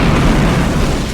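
Explosion sound effect from a Garfield fanfiction audiobook, a loud, dense burst of rumbling blasts filling the whole short moment with no voice over it.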